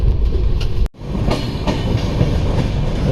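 The Purvanchal Express passenger train rolls on its rails near Bardhaman, heard from on board as a loud, continuous rumble with rhythmic clickety-clack of the wheels.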